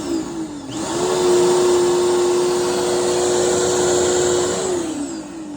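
A Bissell bagless vacuum cleaner, clogged, switches on with a rising whine, runs as a loud steady motor drone with a constant high tone for about four seconds, then winds down.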